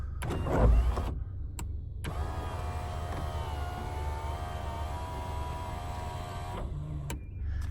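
An electric sunroof motor in a Ford Probe 2.0 16v whirs steadily for about four seconds, close and moderately loud, framed by short clunks as it starts and stops.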